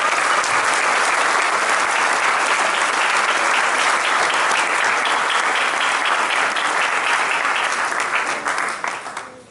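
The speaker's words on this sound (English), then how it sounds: "Can we please give another massive round of applause?" A massive round of applause at Sri Sathya Sai Baba's 100th birthday celebration in New Zealand, with loud, dense clapping sustained from the start that thins and fades out over the last second.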